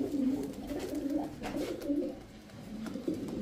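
Male racer pigeons cooing nearby, a low, soft, rolling coo repeating through the whole stretch against faint background noise.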